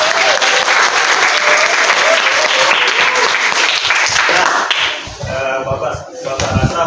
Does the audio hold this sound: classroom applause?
yes